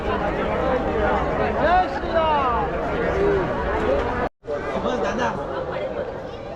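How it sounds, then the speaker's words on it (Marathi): Dense crowd babble at the Anganewadi jatra, a village fair in Konkan, with overlapping voices and chatter filling the space steadily, broken by a brief dropout near the end. "बेकार गर्दी आहे बेकार गर्दी"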